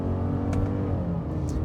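Engine of a 2026 Subaru Forester Wilderness with a CVT revving under load, a steady low droning hum heard from inside the cabin, moderately loud and uninterrupted by voices.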